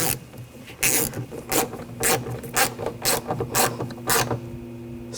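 Screws on the rear window regulator of a 2000-2006 BMW X5 are snugged down by hand: about nine short, close rasping, ratcheting bursts in a steady rhythm, with no talking.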